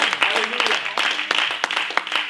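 A church congregation claps together during a French-language service, a brief burst of scattered, irregular handclaps filling the room, with voices mixed in.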